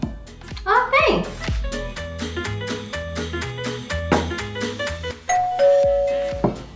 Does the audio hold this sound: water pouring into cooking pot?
no